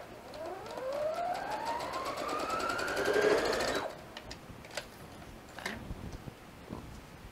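A sewing machine stitches a fabric bow in a steady, rising whir for about four seconds, then stops, followed by faint clicks and handling noises; no talking.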